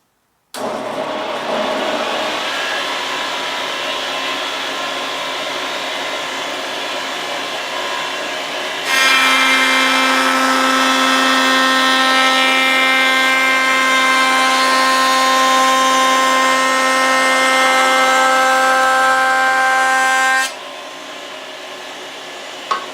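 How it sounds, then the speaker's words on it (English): A woodworking jointer planes a board, its motor whining steadily before a louder, brighter cutting roar takes over for about eleven seconds as the wood feeds through, then falls back to the idling hum. "Let's use the joiner to make our wood true."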